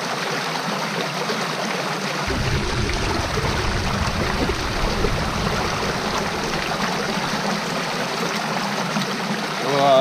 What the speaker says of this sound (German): Ich heb den mal ins Wasser.